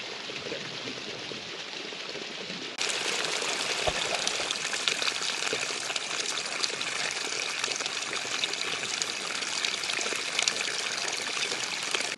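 Water rushes steadily toward a large waterfall at the Ein Avdat desert oasis in Israel, a constant close splashing flow that swells noticeably louder after the first few seconds.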